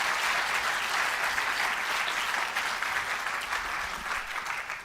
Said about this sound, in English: I'll ask you to give one more round of applause to both of our speakers for today